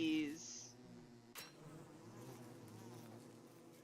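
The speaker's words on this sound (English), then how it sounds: "Bees." Bees buzz steadily in the Palia video game, a continuous insect drone that swells briefly at the start and then holds at a moderate level against faint background game sounds, with one short sharp click partway through.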